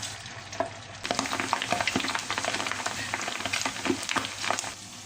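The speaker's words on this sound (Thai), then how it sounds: "เราก็ทยอยเอาหมูของเราลงทอดเลยนะคะ" Steady crackling sizzle of pork frying in hot oil, dense popping and spitting throughout, close and fairly loud with no voices.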